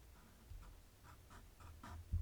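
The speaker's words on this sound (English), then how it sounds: "we're going to just test out the watermarkers first" A water-based marker swatched on paper, soft rhythmic scratching strokes of the nib, quiet and close in a still room.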